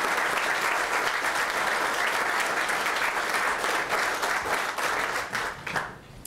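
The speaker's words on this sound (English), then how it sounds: "Lots of standing applause for John Sturgeon" Standing ovation for an invited guest at the Alaska governor's 2020 State of the State address, loud sustained clapping from a large audience filling a hall, tapering off at the end.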